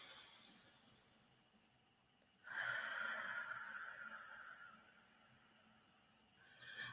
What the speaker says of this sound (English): just take a couple of deep breaths